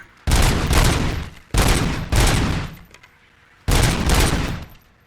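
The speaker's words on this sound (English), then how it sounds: "I have infinite ammo available right now, so I can spam bullets" Rapid automatic gunfire in Robocop: Rogue City, loud close bursts, one long burst, then two more in quick succession, a pause, and a final burst, with short gaps of near silence between them.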